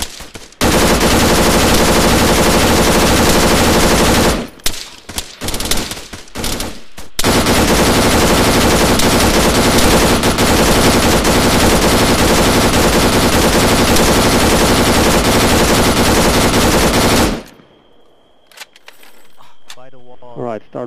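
Gunfire in the video game ArmA 3, loud dense continuous automatic fire with brief gaps, cutting off sharply near the end into quieter ambience.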